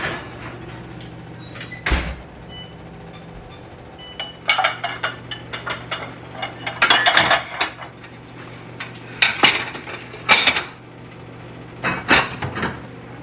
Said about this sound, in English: Figure I might as well put away the dishes while I'm waiting for my brownies.